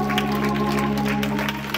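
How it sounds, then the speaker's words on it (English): A church congregation claps its hands during online worship. Soft, steady clapping runs throughout, blended under sustained organ-like musical tones. "Clap your hands right here"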